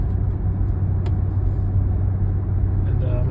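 An Infiniti QX80 SUV drives after a transmission fluid change, a steady low road and engine rumble heard from inside the cabin, loud and continuous, with a voice talking over it.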